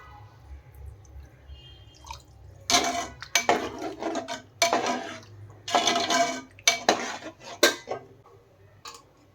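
Water splashes and pours in short bursts into a pot of potatoes cooking in masala, with clinks of cookware between pours, close and fairly loud.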